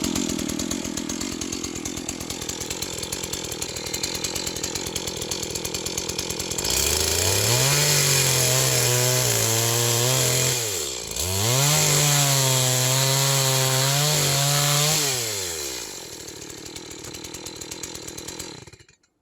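A new Stihl MS180C chainsaw with a new chain revs and bites into wood, its pitch dropping and wavering through two long cuts, loud and close, with a brief pause between them.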